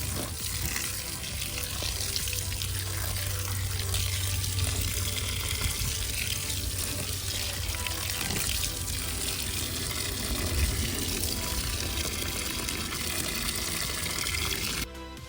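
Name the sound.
watering transplanted seedlings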